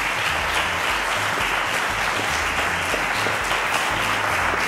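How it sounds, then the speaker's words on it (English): A studio audience gives a steady, loud round of applause for a quiz contestant on a televised science quiz show, dense clapping that runs unbroken from start to finish with no talk. "I think that deserves a round of applause."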